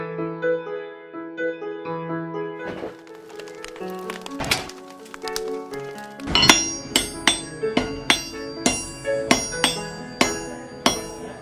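A blacksmith's hammer blows ring out on an anvil at a forge, first scattered and uneven, then settling into a steady, fairly loud rhythm of sharp clanging strikes.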